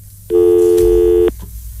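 A telephone line tone on a radio call-in show: a single loud, steady electronic beep lasting about a second, with faint background hum before and after.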